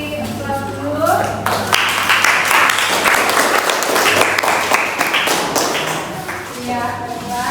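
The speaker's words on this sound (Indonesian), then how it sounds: "silakan untuk kelompok 1 kita beri aplaus dulu" An audience in a classroom teaching-performance assessment claps for a group after its presentation, with steady, dense applause from many hands lasting throughout, loud and close, with some voices mixed underneath.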